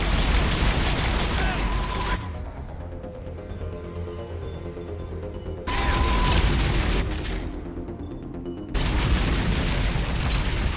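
A Harvester firing on Turians in Mass Effect: heavy booming barrages and gunfire in loud bursts, cutting out and returning, with quieter combat noise between the blasts.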